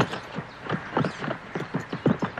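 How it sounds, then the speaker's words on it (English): Horse hooves cantering slowly in a steady three-beat rhythm, close by, repeating clip-clop strikes through the whole stretch with a faint breathy background. "We'll start with a slow canter."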